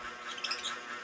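Young cockatiels, still kept with their parents (a lutino cock and pearl ino hen), chirping faintly in quick high squeaks and tweets, a soft continuous chatter with no talking.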